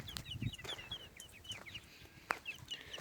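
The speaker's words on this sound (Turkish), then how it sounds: "Burada galiba bir tane horoz var." Faint chicken clucks and soft chirps scatter across quiet outdoor ambience, with a brief sharp noise partway through, heard from some distance.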